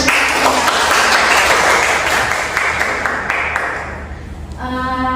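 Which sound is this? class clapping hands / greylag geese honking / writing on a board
class clapping hands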